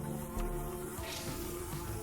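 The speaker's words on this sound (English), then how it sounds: "These are like space bees" Buzzing space bees in the space drone game Nimbatus, a steady insect-like drone with a high whine over a low hum, close and continuous.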